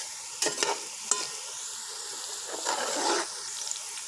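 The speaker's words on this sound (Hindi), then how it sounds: "प्याज हमारे साथ साथ ये देखें ब्राउन हो रहे हैं" Chopped onions browning in a pan for matar keema, a hissing sizzle with a few sharp scrapes of the spoon early on and a swell of frying noise toward the end, fairly soft and close.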